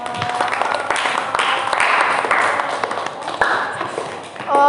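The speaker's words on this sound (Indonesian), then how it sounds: "Tepuk tangan untuk kelompok 2." A classroom group applauds a presenting student team, a moderate burst of scattered clapping with a few thumps and taps, swelling in the middle before tapering off.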